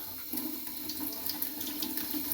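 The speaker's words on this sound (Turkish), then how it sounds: "Elini yüzünü de yıka bakalım." Water runs steadily from a tap into a sink as a child washes hands and face, a continuous close splashing hiss with small irregular spatters throughout.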